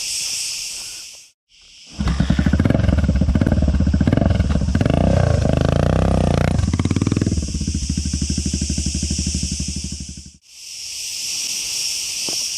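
A 1989 Yamaha XT 600 motorcycle engine runs at close range, a steady throbbing single-cylinder idle with slight swells in revs, framed by a high buzzing of insects before and after.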